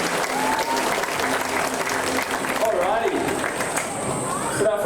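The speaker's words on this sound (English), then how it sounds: "we start with a nice big round of applause for the star of our show." A large audience at a Tiger Island show at Dreamworld on the Gold Coast applauds steadily throughout, the dense clapping holding at a constant level with scattered voices and a brief whistle-like tone rising above it.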